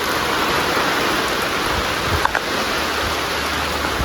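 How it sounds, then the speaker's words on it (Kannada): Steady rain falls in the late afternoon, a dense even hiss that holds at one level for the whole stretch, with no voices. "ಮಳೆ ಬರ್ತಾನೇ ಉಂಟಾಯ್ತಾ."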